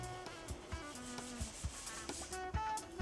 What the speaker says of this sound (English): Wet sand the entire area.